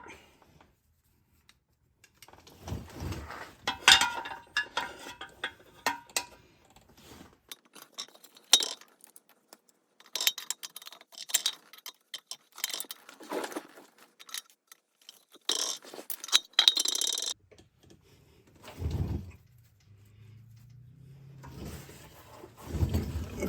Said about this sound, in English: put that muffler clamp around it.